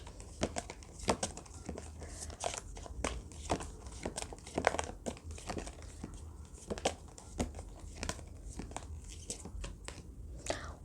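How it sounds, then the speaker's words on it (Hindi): Tarot cards being pulled from a deck and shuffled make rapid crisp papery flicks and rustles, close and irregular, running continuously with a faint voice now and then. "पहले सारे कार्ड्स निकाल लेते हैं आपके लिए।"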